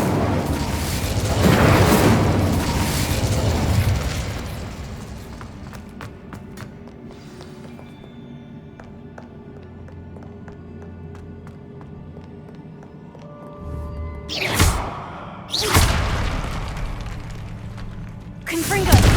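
Fire spell bursts in Hogwarts Legacy: loud booming whooshes at the start, a quieter stretch, then several sharp blasts near the end, with no talking.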